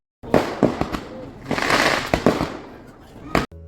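Fireworks go off at a Shivaratri night festival: a rapid series of sharp cracking bursts and a crackling roar, loud and close, ending in one final bang.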